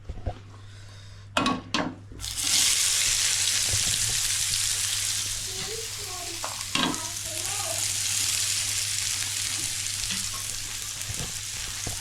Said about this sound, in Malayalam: ഇനി നമുക്ക് സവാള വറുത്തെടുക്കാം.